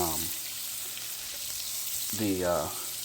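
Butter and olive oil heating in a pan over medium-high heat, a soft, steady sizzle heard close up, with brief bursts of voice-like sound over it.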